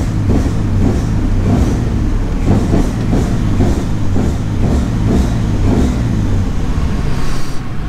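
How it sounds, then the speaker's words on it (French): A BMW E46 engine running rich on E85 with an AEM 340 L/h fuel pump is blipped repeatedly at low rpm, a loud rhythmic series of short throttle pulses over a continuous rumbling idle. "quand je vais aller faire du yo-yo à donner des coups de gaz quand elle est à bas régime"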